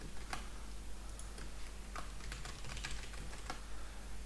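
Password typed on a computer keyboard, a run of quiet, irregular key clicks tapping at close range over a faint background hum, with no speech.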